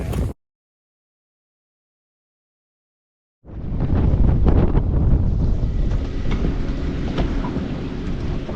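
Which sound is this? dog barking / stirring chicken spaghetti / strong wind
strong wind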